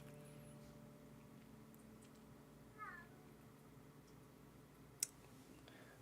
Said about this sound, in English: My cat wants in.